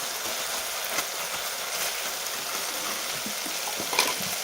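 Chili powder with onion-garlic masala frying in a pan for a spicy village-style drumstick amti, a steady close hiss with a few soft stirring scrapes.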